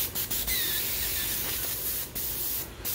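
Airbrush spraying orange paint, a steady close hiss of atomized air running the whole time with a few brief louder bursts.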